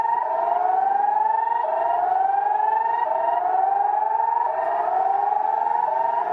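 An emergency alert system alarm tone sounds alone and loud. It repeats a rising, sweeping siren-like wail about every second and a half in a steady cycle.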